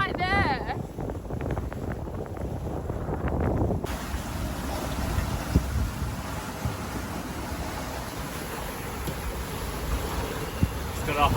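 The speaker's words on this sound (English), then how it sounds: "Wind's picked up, 19 knots." A 19-knot wind blows over a sailboat moving at speed off Guadeloupe with its main reefed, making a continuous roaring rush and buffeting across the microphone, mixed with the wash of water.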